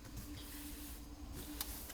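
A sewing machine stitches a cloth pad with a steady, low mechanical whir and hum, close but quiet, running continuously with a faint click near the end.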